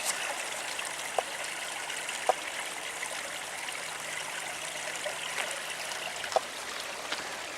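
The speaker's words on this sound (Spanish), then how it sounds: "Estamos en Camoca de Abajo y en un manantial bastante desconocido en Villaviciosa por sus propiedades, llamado Fuente Tebia o Fuente Tibia." Water runs steadily from the Fuente Tibia, a little-known warm spring at Camoca de Abajo in Villaviciosa, giving a soft continuous trickle and stream wash with a few faint clicks, heard nearby and alone without talk.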